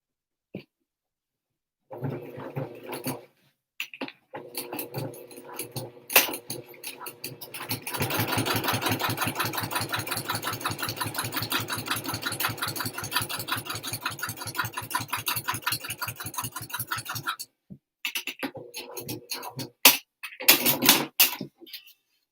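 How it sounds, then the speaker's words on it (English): A sewing machine top stitches along the bottom edge of a fabric wristlet, a rapid steady needle chatter running for about ten seconds, framed by shorter bursts of stitching and handling sounds before and after. "I'm just going to top stitch from the bottom."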